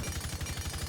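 Zofia's M762 rifle with a muzzle brake in Rainbow Six Siege fires full-auto, the rapid regular reports loud and close, continuing without pause through a brief burst with no speech over it.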